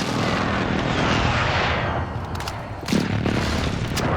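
Airstrike explosions in the Call of Duty: Warzone video game, heard as a dense, continuous rumble of booms and gunfire that stays loud throughout, with a sharper burst near the end.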